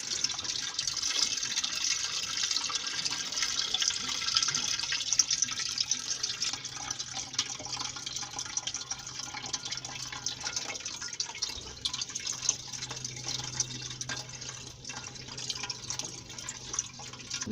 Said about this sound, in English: You need to sieve the coconut directly into your cooking pot